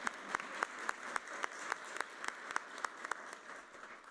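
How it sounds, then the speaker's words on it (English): A school board meeting audience applauds after student names are read. The clapping is steady and moderately quiet, with a few sharper individual claps standing out across the stretch. "you can go ahead and applaud"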